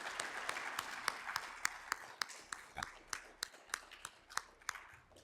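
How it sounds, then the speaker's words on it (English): An audience at an evening civil rights event applauds Jefferson, a thin, fairly distant patter of scattered claps with some sharper individual hand claps standing out as it tapers. "So a round of applause, please,"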